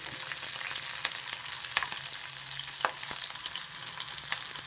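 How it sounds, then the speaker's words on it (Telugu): Green chillies frying in hot oil on a low flame, giving a steady, dense sizzle with scattered small pops and crackles, close and continuous with no voices. "పచ్చిమిర్చి వేగుతున్నాయి"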